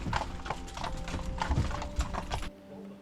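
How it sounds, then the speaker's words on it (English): Hooves clip-clop at a steady trotting rhythm as a horse-drawn buggy rolls along toward Neuschwanstein Castle, close and clear, then the sound cuts off abruptly. "a more enjoyable way to get there is to take the horse and buggy"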